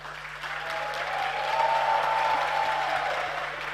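A group of school students in an auditorium claps together, a broad, sustained crowd applause swelling slightly in the middle and staying steady, heard from a moderate distance over a faint constant hum.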